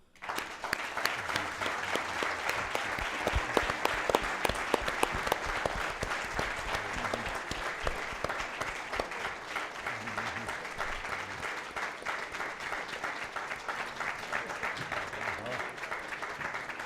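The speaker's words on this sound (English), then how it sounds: "That needs an applause" Sustained audience applause at a public convening, a broad, even wash of many hands clapping that rises quickly and holds strong for the full stretch, with a few scattered voices underneath.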